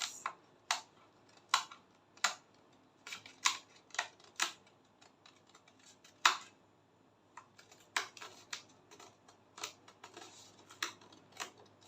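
Masking tape being pulled and pressed onto fabric while drafting a princess dart, giving sharp, irregular ripping and crackling bursts at close range with quiet gaps between them and no talk.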